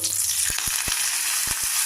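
Curry leaves drop into hot tempering oil with urad dal, chana dal, cumin and mustard seeds, producing a close, constant frying hiss broken by several sharp crackling pops.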